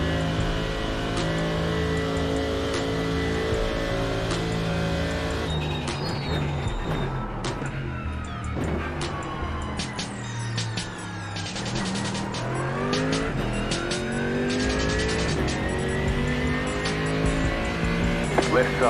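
A GTE race car at Monza in iRacing drones steadily with a loud, continuous engine note that rises and falls through gear changes, with tire squeal and revving as it weaves to warm its tires.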